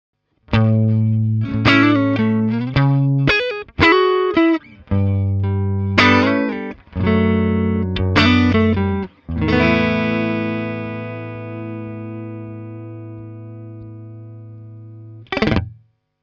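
Distorted electric guitar, played through a Fender tube amp and digital modelers, plays a riff of chords and single notes, ending on a long sustained chord that fades, then a brief final stab.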